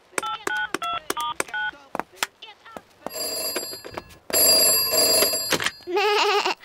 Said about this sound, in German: Wir rufen sie mal an.